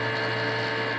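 Printer running a nozzle check, a steady mechanical hum and whirr with a faint ratcheting texture, close and continuous, with no voices.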